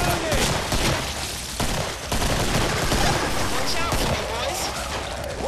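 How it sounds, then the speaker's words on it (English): Rapid, loud gunfire in the Killing Floor video game, a 9mm pistol among the shots, crackles in dense repeated bursts alongside other weapons for the whole stretch, with heavy low booms underneath. "I'll use my little 9mm."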